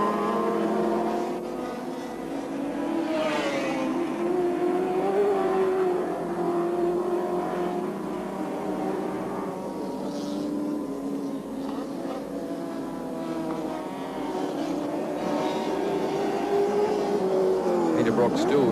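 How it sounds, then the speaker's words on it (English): Touring race cars lap Lakeside circuit in the 1983 Australian Touring Car Championship, including a Nissan Bluebird Turbo, their engines droning steadily throughout with a commentator talking over the continuous racing noise. "Peter Brock still getting inside front wheel light through there."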